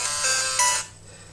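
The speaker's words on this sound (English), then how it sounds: "I got a text message." A short bright chiming text message alert rings out loud and alone in the Pokémon 3D game, lasting under a second before it fades.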